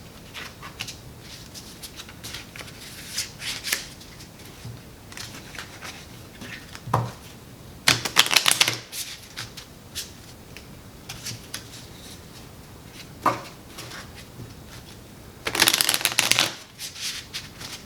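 Playing cards are shuffled for a tabletop wargame skirmish, with short bursts of crisp riffling and several louder riffle-and-bridge bursts separated by quieter handling, all close and without talk.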